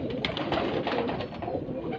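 Flying pigeons on a rooftop coo in soft, repeated low calls, near and fairly quiet over a gentle background hiss, with no voices.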